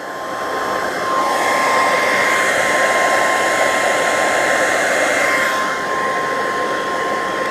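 A hair dryer blowing hot air onto fiberglass roars loudly and steadily close by, rising in strength after a second and easing slightly near the end, with a thin whine.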